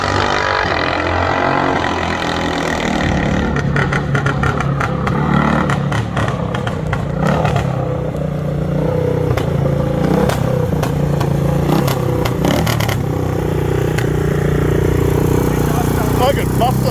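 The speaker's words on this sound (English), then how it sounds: "It's like the muffler fell off. Oh, snapping and popping." A 1980 Yamaha XS650 motorcycle engine running with its muffler fallen off, loud and raw with snapping and popping bursts over a steady low rumble, while people talk over it throughout.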